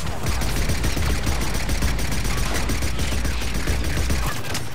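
Sustained automatic assault rifle fire in Mass Effect 3 during a combat mission, a loud, dense stream of rapid shots running almost without pause and cutting off abruptly near the end.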